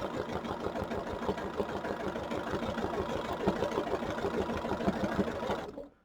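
A sewing machine doing free-motion stitching, driven gently by foot pedal while writing a word in thread: a steady, fairly quiet mechanical whirring hum with fast even needle pulses that runs continuously and stops abruptly at the end.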